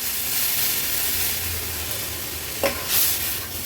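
A steady frying sizzle hisses as fish curry cooks in a pan, then a sudden louder burst of hissing steam as about one and a half glasses of water hit the hot food.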